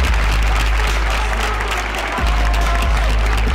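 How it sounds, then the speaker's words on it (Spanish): An audience at a fight event applauds two fighters, loud sustained clapping and crowd noise filling the whole stretch. "un aplauso bien fuerte para estos dos guerreros"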